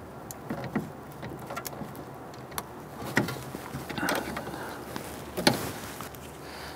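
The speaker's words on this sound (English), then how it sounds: "You want to simply press the little pinch tab on that and pull these connectors off" Plastic electrical connectors being unclipped and pulled apart inside the front door of a 2011-2019 Ford Explorer, a handful of sharp clicks and rattles scattered over low ambient hiss, close and moderately loud.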